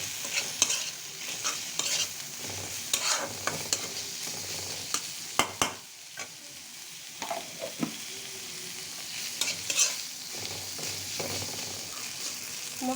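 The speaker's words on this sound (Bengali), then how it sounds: "মশলাটা আমার ভালো তো ভাজা হয়ে গেছে," Spice paste for a tilapia curry fries and is stirred in a pan, with steady sizzling broken by repeated scraping stirs and clinks, close and moderately loud, with no talking.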